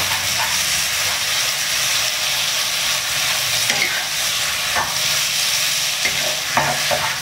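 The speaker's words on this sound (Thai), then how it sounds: "ผัดให้เส้นมันหอมนะครับ" Rice noodles for pad see ew sizzle steadily in a hot wok while a spatula scrapes and tosses them, a loud continuous frying hiss broken by occasional metallic scrapes, with no voices.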